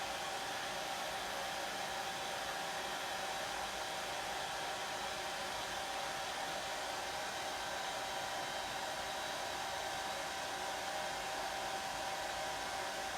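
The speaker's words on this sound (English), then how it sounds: "I'm going to blow dry this really quick." A hair dryer blows steadily and loudly close by, drying a wet layer on a craft project, its even rushing whoosh holding without a break the whole time.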